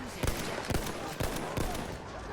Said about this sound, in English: I'm trying to take some cheeky shots at the oncoming enemy forces